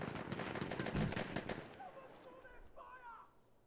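Rapid MP18 submachine gun fire in a multiplayer shooter match, a dense burst of close, loud shots in the first half that stops abruptly, followed by quieter distant game noise.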